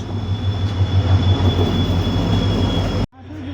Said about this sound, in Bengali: এই জাস্ট ট্রেন আসলো